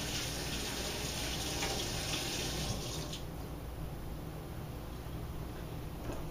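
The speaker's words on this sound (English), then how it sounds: "I'm going to rinse my hands very" Tap water runs steadily into a kitchen sink as hands are rinsed, a close, even hiss that lasts the whole time with no talking.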